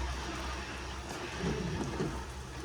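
Steady rain hisses continuously, a dense wash of falling drops with a low rumble underneath and no talking.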